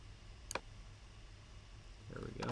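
Mouse clicks while dragging shapes in Adobe Illustrator: a sharp double click early, then a quick cluster of clicks near the end over quiet room hum, with faint vocal sound at the close.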